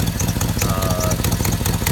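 A 2004 Chevrolet Silverado dump truck idling with an exhaust manifold leak from a broken front bolt, heard close and loud as a steady rough rumble with a fast ticking exhaust pulse throughout.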